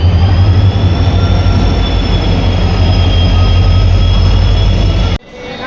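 A train rolls through a railway station, a loud steady rumble of wheels and carriages with a faint high squeal running throughout, cutting off abruptly near the end.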